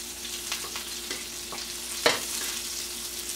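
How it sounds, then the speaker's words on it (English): Salmon fillet frying in hot butter in a pan while being moved and basted, a continuous close sizzle with scattered clicks and one sharper scrape of a utensil, no one speaking. "Move it around a little bit, make sure that the fish gets on another nice hot spot of the pan."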